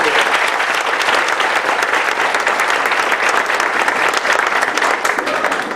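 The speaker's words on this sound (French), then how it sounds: "nous demandons assistance à applaudir" An assembly at a school ceremony in Gonaïves, Haiti breaks into loud, steady applause, many hands clapping in a thick continuous roar that holds evenly from start to finish.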